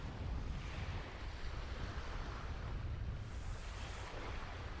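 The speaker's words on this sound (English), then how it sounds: "The wind's starting to blow in now." Wind blowing on Pensarn beach at a rising tide, with surf breaking: a steady, loud roar and rumble of wind on the microphone over continuous washing waves, with no voices.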